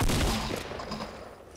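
A short, loud burst of gunfire from a Fortnite Battle Royale match, dense at first and then trailing off over about a second and a half.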